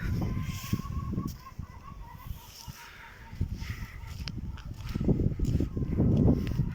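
Chickens cluck and squawk in bursts as their coops are opened, over a low outdoor background, the birds fairly close, with a louder flurry of calls toward the end.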